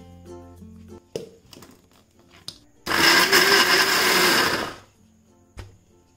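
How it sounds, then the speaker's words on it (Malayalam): A mixer grinder whirs loudly for about two seconds, blending a paste for chicken vindaloo, then stops, with scattered clicks and handling knocks before and after. "ഇനി ഇത് മിക്സിയുടെ ജാർ അടച്ചിട്ട് ഒന്ന് അടിച്ചെടുക്കാം"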